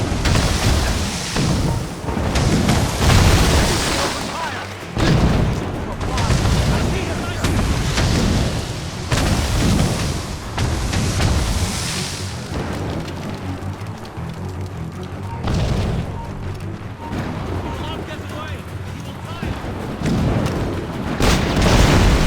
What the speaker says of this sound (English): Chevalier's using mortars to stop Shay!